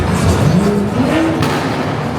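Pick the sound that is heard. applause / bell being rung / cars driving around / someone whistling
cars driving around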